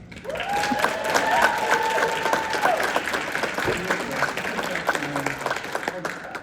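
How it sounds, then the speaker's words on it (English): Audience applause at a nursing doctoral (DNP) symposium, steady clapping from a crowd sustained throughout, with a voice speaking over it partway and faint tonal sounds above the claps. "deserve an amazing round of applause from everyone"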